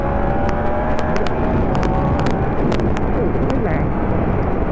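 A Yamaha R1 motorcycle engine revving hard under acceleration, loud and close with a rising whine, broken by sharp crackling bursts in the middle, heard amid traffic.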